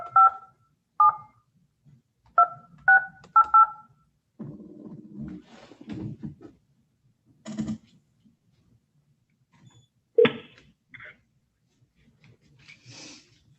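Touch-tone keypad tones from dialing out on a telephone during a court video hearing, several short paired beeps in quick succession, followed by muffled handling noise, a click and faint rustling.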